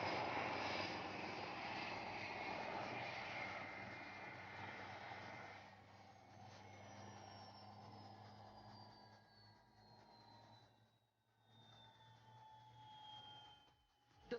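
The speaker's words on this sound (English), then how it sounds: "fly the Dhruv helicopter to the limits of its operational flight envelope" An Indian Dhruv helicopter's engine roars loudly overhead during an air show flying display, rising and falling as it passes, with the whine of the rotor sliding downward as it moves away.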